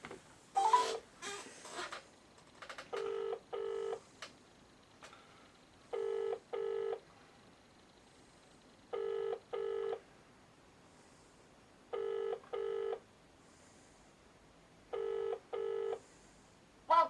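Telephone keypad dialing tones for a call to Mildred: a few quick irregular beeps, then a steady pattern of paired tone bursts repeating about every three seconds, clear and close over a quiet background.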